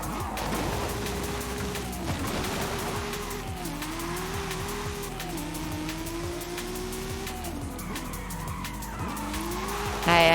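Audi Quattro rally car with a roll cage in a video game, tyres skidding and squealing over a busy engine note that rises and falls through gear changes, loud and continuous with repeated slides.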